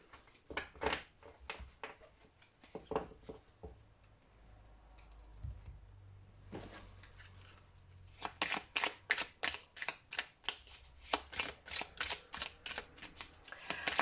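Oracle cards are shuffled by hand in quick riffling bursts, soft at first, then a longer run of rapid, rhythmic flicking close to the listener, with a brief lull in the middle and no talk.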